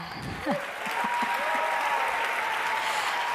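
Sustained audience applause at a closing ceremony honoring a performer, steady dense clapping with a brief vocal sound near the start.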